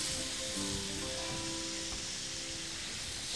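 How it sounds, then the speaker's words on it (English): Red masala–marinated squid pieces frying in a covered pan, giving a loud, steady, close sizzle that holds evenly throughout without any voices. "You have to cover it always when you are frying."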